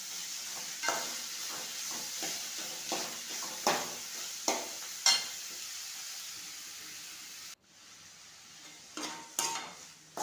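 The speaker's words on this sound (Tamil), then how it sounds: "நான் வந்து மொத்தமாக எல்லாத்தையும் ஒன்றா போட்டு வதக்கி எடுத்துக்குவேன்" Ingredients for a South Indian fish curry are sautéed together in a pan with a soft ongoing sizzle, punctuated by a series of scraping stirs and spatula knocks, close and without talk.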